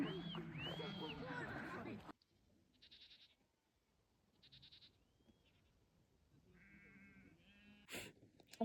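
Sheep bleat repeatedly while being herded in rural Zavkhan, Mongolia, a dense overlapping chorus at the start, then scattered nearer and farther single bleats over open-air quiet.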